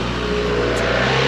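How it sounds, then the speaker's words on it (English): A steady, loud vehicle engine roar, likely a truck passing close on a road near Las Peñitas beach in Nicaragua, filling the whole moment without talk. "Got a truck coming by, of course."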